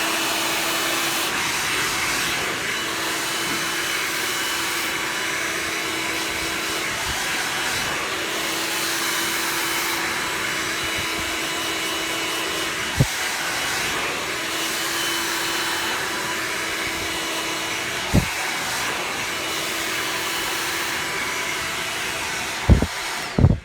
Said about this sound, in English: I'm following the brush with the dryer